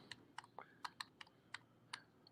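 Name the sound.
typing on a computer keyboard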